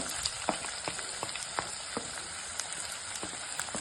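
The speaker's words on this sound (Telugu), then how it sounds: "ఉల్లిపాయలు చిన్న చిన్న కట్ చేసుకున్న ఉల్లిపాయలు పచ్చిమిర్చి వేసుకొని" Finely chopped onions and green chillies frying in hot oil in a pan, a steady close crackling sizzle with scattered sharp pops throughout, no voices.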